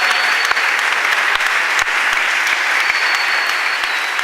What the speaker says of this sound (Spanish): le pido un fuerte aplauso a los compañeros de Peronismo Militante